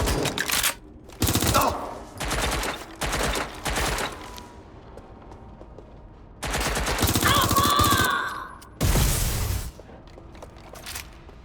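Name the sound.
gunfire in video game Watch Dogs Legion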